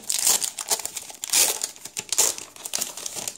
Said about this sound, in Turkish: Vallahi güzel açılan bir paket.